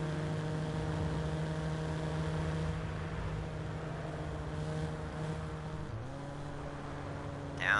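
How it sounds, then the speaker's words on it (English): A car engine in the Watch Dogs video game that resembles a Toyota Supra, a steady low drone that holds evenly before the pitch dips and then climbs at a gear change near the end, fairly quiet and without voices. "I swear it sounds like a freaking Supra."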